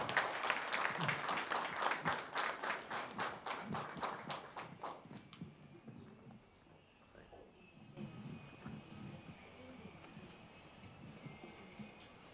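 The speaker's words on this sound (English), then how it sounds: "Let's welcome him with a round of applause, please." Applause from the audience at an SME business forum as an economic advisor is welcomed to the stage: rhythmic clapping at moderate distance, strongest at first, then fading into quieter room noise and murmurs.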